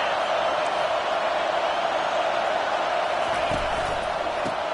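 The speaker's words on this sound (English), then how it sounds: "Listen to this crowd just shaking the girders of this place," A packed stadium crowd at a college football game cheering, with a dense, steady roar that fills the whole stretch and hardly rises or falls.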